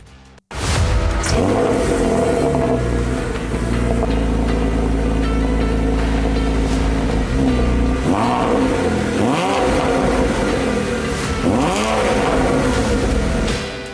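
Car engine revving loudly and steadily, with repeated rising-and-falling throttle blips and a deep sustained rumble, close and alone for the whole stretch.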